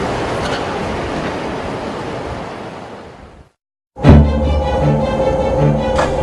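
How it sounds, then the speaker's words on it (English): A bullet train at Tokyo Station, a loud steady rushing roar with rail rumble that cuts out briefly, then returns with rhythmic clacking and a humming tone. "here we are at Tokyo Station, just about to get on a bullet train"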